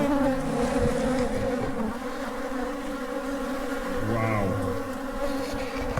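Dense, steady buzzing of many bees swarming close by, continuous and loud with no voices.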